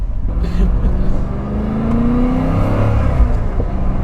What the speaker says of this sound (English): you just get this engine sound, you know, and it's just vroom, vroom